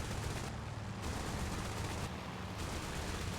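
Naval cannon fire in the video game Task Force Admiral, a dense, continuous barrage of overlapping booms that rumbles steadily throughout at a fairly low, distant level.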